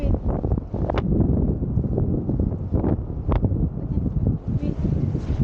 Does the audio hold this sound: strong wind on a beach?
yes